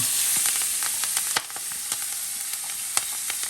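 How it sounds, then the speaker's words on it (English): Backyard vegetables and foraged plants dropping into a hot pan, setting off a bright, continuous sizzle with scattered crackles and pops, close and fairly loud. "And all of our veggies are going to go in."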